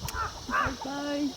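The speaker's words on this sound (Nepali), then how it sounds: "आज यो काग कराइरहेको छ" A crow caws a few times nearby, harsh calls mixed with a person's speech in a short burst.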